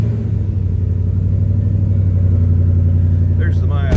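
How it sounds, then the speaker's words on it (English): A 2011 Ford Mustang Roush Stage 2 convertible's V8 rumbles steadily at close range with a deep, even idle, a brief mechanical rattle arriving near the end. "Let's go ahead and start this one up here."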